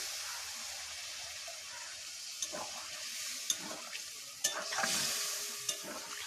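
Liquid hisses and bubbles in a hot pan as water is added to duck meat cooking at home, a steady sizzle broken by a few sharp splashes and clinks near the mic.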